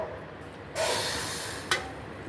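Water is poured into a pan to make sugar syrup, giving a sudden broad rushing splash that lasts about a second and ends with a short clink, with no talk over it.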